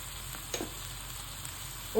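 Onion and tomato with salt frying in a pan, a faint steady sizzle running throughout with a couple of soft stirring scrapes, no voices.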